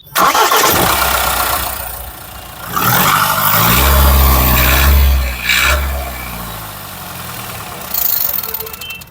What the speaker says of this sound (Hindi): तो कुछ ऐसा साउंड सुनने को मिलता है आपको इस 700 डीजल का।